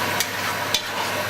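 Prawns frying in a pan with pasta cooking, giving a steady broadband sizzle with a couple of faint clinks of a utensil against the pan.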